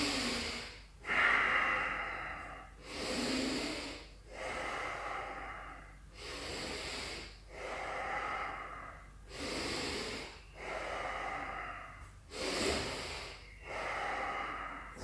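Rhythmic yoga breathing, inhales and exhales in about seven loud, close, airy cycles of roughly two seconds each, with no talking over them.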